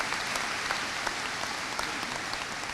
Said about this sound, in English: A nice round of applause for that school